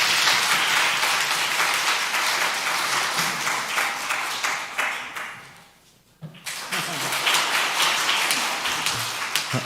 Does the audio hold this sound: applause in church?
yes